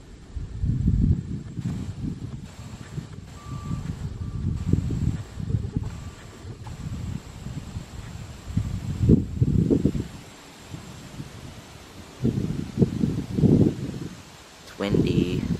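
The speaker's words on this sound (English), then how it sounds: "Windy." Strong wind buffeting an outdoor microphone at a plane-spotting spot near a house, low rumbling gusts rising and falling throughout, with a voice talking over it.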